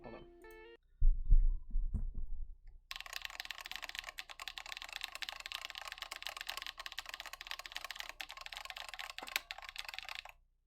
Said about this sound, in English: How do the F keys sound?